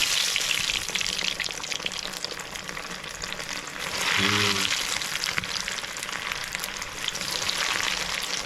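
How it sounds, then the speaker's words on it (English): Prawns deep frying in hot oil, giving a steady, loud crackling sizzle throughout, with a brief louder burst midway, likely from stirring or food being added. "So let's go and cook now. So here we go with the prawns."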